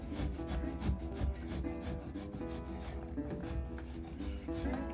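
A wooden duck decoy is filed and cut by hand, producing quiet, close rhythmic rasping strokes against the wood grain, with no talk.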